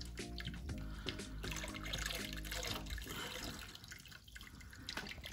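Water swishes, drips and trickles in a fish tank being cleaned, close and fairly faint, with splashing movements and a brief dip in the middle, and no voices.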